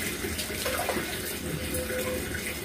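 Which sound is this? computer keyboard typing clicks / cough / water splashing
water splashing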